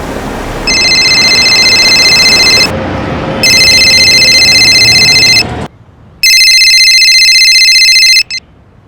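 A telephone rings loudly in three long electronic bursts with short gaps between them, the last burst cut off abruptly, with no talk over it.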